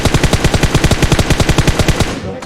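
Gunfire in the PUBG Mobile video game: a loud, close, sustained automatic burst of rapid, evenly spaced shots lasting about two seconds before cutting off, with no talking.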